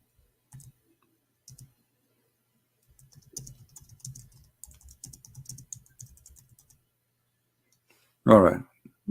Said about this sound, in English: Look like there's a delay in typing for some reason in this software.